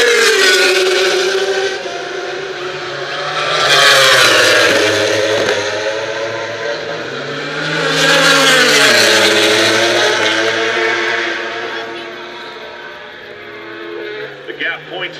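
MotoGP motorcycles race past Turn 11 at Laguna Seca, two loud engine surges swelling as bikes approach and scream by the grandstands, with a steady race-commentary voice running underneath throughout.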